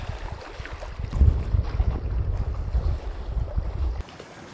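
Strong gusts roar across a lakeside campsite on Lake Opeongo in Algonquin Park, buffeting the microphone, with waves washing in beneath. The wind swells and stays heavy, then eases near the end.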